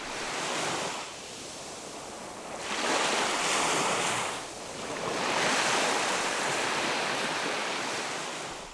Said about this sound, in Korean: 변산바다에 이르면 가장 먼저 파도가 마중을 나온다